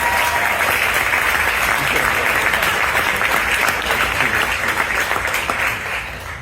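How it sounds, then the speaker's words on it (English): Loud, dense applause from a wedding reception audience celebrating the couple, steady for several seconds before easing slightly at the end. "Round of applause for you guys."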